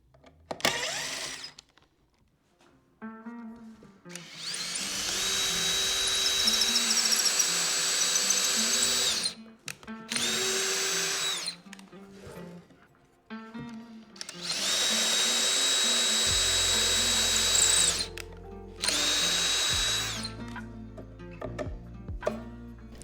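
A power drill drives hardware handles onto a custom DIY nightstand, whirring loudly in several long bursts separated by short pauses, close up with no talking.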